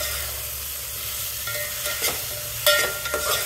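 Onions, carrots and tomatoes cooking in a pan with ginger garlic paste and turmeric give a steady close sizzle with occasional stirring scrapes and clinks, and no voices.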